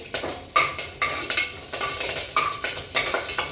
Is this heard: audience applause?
no